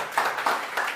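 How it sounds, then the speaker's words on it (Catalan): A small audience claps at a live cooking demonstration in L'Ampolla, a brief, faint patter of three light rhythmic beats. "Carai! Un aplaudiment."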